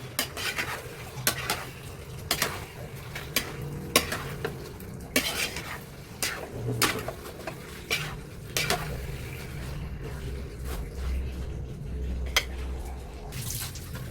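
Fried shrimp, more than a kilo, stirred into sweet and sour sauce in a pan, with repeated clinks and scrapes of a utensil against the pan over a low sizzle, close and steady with no talking.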